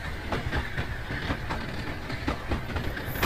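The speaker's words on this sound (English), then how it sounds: "It is white color train is going to the next stop in station." A white train passes with a steady, loud rumble and a regular clickety-clack of wheels over the rail joints.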